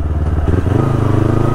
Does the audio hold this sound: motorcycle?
yes